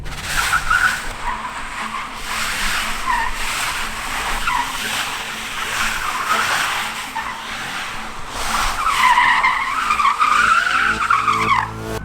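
An EV-converted Datsun 240Z sliding in drift mode, loud sustained tire squeal and skidding with wavering pitch, rising into sharper, higher squeals near the end, with no engine roar and no voices.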